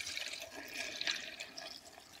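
Milk poured into a blender holding mango and ice cream, a steady liquid splashing and gurgling lasting about two seconds, close and fairly quiet with no talk.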